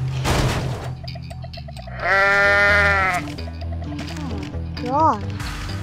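A goat in the video game Goat Simulator (GoatZ) lets out a loud, strained bleat in the middle, with shorter wavering bleats afterward, over game music and effects.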